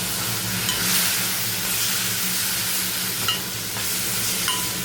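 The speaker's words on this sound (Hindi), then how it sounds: "अब इनमें मैं डाल रही हूँ ये सूखे मसालों का पेस्ट" Dry spice paste frying in a pan for dahi lauki, a steady broadband sizzle with a low hum beneath, occasional soft scrapes and clicks of stirring, close and fairly loud with no talking.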